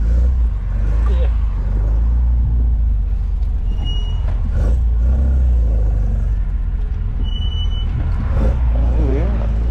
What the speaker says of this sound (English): Back to idle, right, and I said it even starts by itself